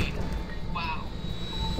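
A steady airplane engine drones in Just Cause 2, heard from the passenger seat as a continuous loud roar with a whine, while voices talk over it.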